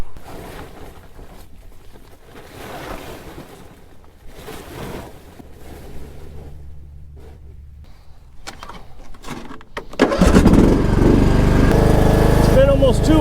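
A John Deere Briggs & Stratton engine at an off-grid tiny house cranks and catches near the end, jumping to a loud, steady running roar after a stretch of quieter outdoor sound with speech.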